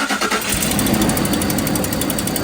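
A newly installed 5.3 Triton V8 in a Ford F150 fires up and settles into a loud, steady run with a rapid metallic rattle, heard close and unbroken after the start.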